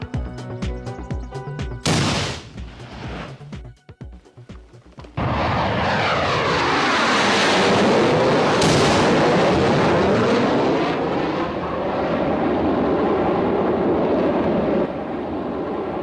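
Military field firing exercise for cadets with mortar, artillery, tank fire and close air support, ending in a loud sustained roar of a low-passing aircraft after a few sharp blasts and bursts of gunfire.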